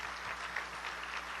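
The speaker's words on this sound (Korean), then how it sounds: "예수님한테 박수 한번 쳐봐." Church congregation applauding during a sermon, a steady wash of clapping throughout that stays even and fairly distant.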